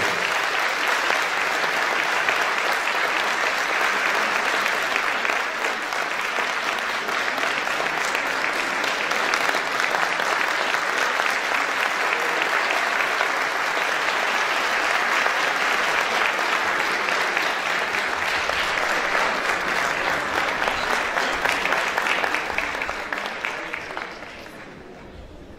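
Sustained, loud applause from a concert audience greeting the conductor at a Turkish classical music choir performance, a dense steady wash of clapping that holds for over twenty seconds before tapering off at the end.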